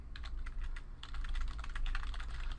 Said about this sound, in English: I'm just typing stuff in here so you can see that